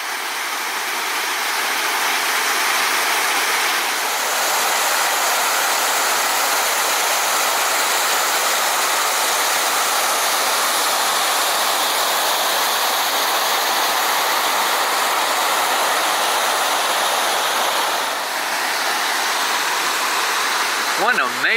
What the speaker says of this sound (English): One amazing thing about these falls here is that they cut through solid rock.